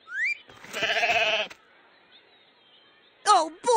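A cartoon sheep in a Sesame Street measuring game gives wavering, nasal bleats, a long one near the start and two short ones at the end, loud and close with quiet gaps between.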